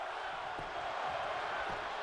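A video game wrestling crowd roars with a steady cheer in a wrestling match between Bayonetta and Mitsuru Kirijo, a dense and continuous wash of voices holding even throughout.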